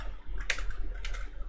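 Fingers type on a computer keyboard, a few quick, close key presses with a couple of sharper clicks over a low background hum.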